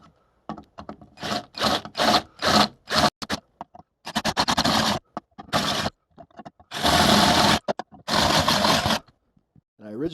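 Holes being widened and chamfered on a MAGWheel part during a VESC install, heard as close, rhythmic scraping and rubbing strokes in quick bursts with brief gaps.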